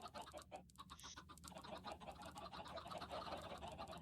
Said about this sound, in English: These chickens are getting in my way.